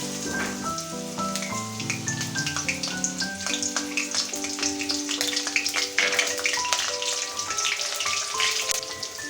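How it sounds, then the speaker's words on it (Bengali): Onions sizzle steadily in hot soybean oil in a pan, a continuous crackling fry with scattered pops, heard under background music with no talking. "পেঁয়াজটা ভেজে আমি পুরো বেরেস্তা করে নেব"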